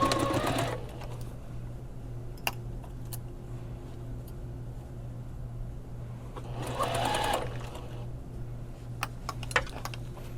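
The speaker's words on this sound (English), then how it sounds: "you could serge along this just to cut the excess off" A domestic sewing machine stitches a shirred dress bodice in a steady mechanical whir, with two louder bursts of running near the start and again midway, and light clicks and handling noises between them.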